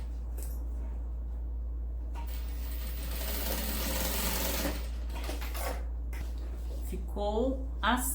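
A sewing machine stitches a strap onto fabric for a child's bag in a few short bursts of rapid mechanical whirring, close up and over a steady low hum, while someone talks.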